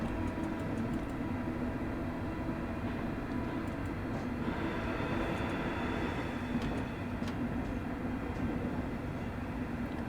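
A Class 385 ScotRail electric train pulling away and accelerating in a train simulator game, a steady, dense rolling rumble with a continuous motor whine held at an even level throughout, no voices present.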